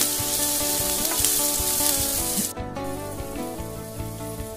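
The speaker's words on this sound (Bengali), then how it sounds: "এরপর আমি কেটে রাখা আলুগুলো এর মধ্যে দিয়ে দিলাম। আলুগুলো আমি একটু ভেজে নেব।" Cut potatoes fry in hot oil with five-spice seeds, a loud, steady close sizzle with occasional stirring scrapes, no talk.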